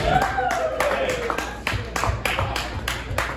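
A comedy club audience claps in a loose, rhythmic run of distinct hand claps, with a voice and crowd murmur mixed in underneath.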